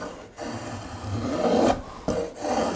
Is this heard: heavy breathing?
no